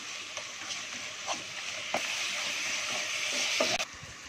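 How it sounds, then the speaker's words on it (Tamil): Masala for vada curry sautéing in a pan gives a steady high sizzle, broken by a few sharper scrapes and clatters as it is stirred, fairly close and alone. "இந்த மசாலா ஸ்மெல்லாம் போகிற அளவுக்கு நல்லா வதக்கிக்கலாம்"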